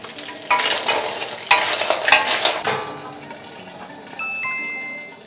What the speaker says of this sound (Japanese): 少しね炒めるとね